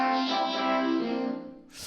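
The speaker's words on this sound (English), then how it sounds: "The only thing that's really added in this section is the vocoder." A vocoder shapes piano chords with vocal input into a bright, buzzy sustained chord that fades out and gives way to a brief breathy hiss at the end.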